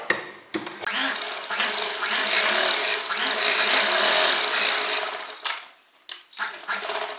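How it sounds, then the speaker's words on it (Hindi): A sewing machine stitches canvas onto the lining of a front-open three-panel kurti, with bursts of loud, close whirring broken by short pauses as the fabric is repositioned, and no talking. "अब हम इस वाले नेक को हटाकर अस्तर के ऊपर इस कैनवास को ऐसे सिलाई लगाकर चिपका लेंगे।"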